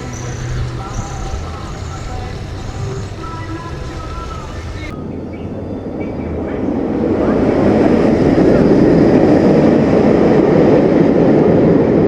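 Nemesis Inferno roller coaster at Thorpe Park roars past. A broad rumbling rush swells in the second half and stays loud and sustained, drowning the earlier background music and crowd noise.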